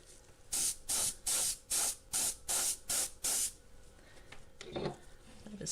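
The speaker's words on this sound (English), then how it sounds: "Let's see if we can do something with the Mr. Airbrush here." Mr. Airbrush spraying acrylic paint in eight short, evenly spaced hissing bursts of about a third of a second each, close and loud, followed by quieter handling noise.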